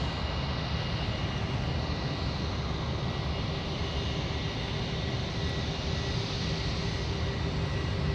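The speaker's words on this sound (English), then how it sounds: "It's the A320 ripping up Charlie" A Jetstar Airbus A320 bound for Avalon rolls along taxiway Charlie at Sydney Airport at night, a steady broadband jet roar with a thin sustained whine, continuous and fairly close, with no voices.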